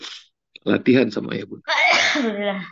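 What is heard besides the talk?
sneeze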